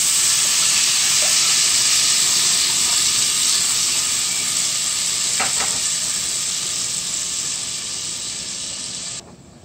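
White wine poured into a hot pan for a shrimp scampi sauce sizzles and steams with a loud, steady hiss, a few faint clinks of stirring partway through, before fading slightly and cutting off near the end.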